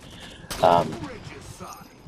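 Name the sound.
gunfire in a video game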